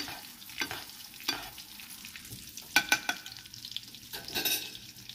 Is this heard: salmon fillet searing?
yes